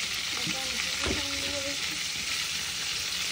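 Food sizzles and crackles steadily in a hot frying pan in a home kitchen, a constant close hiss with faint stirring scrapes and no talk.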